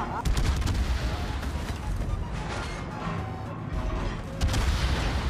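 Secondary battery guns on a World of Warships battleship firing in rapid repeated cracks and booms, dense and loud throughout like sustained artillery, with a voice briefly heard amid the barrage.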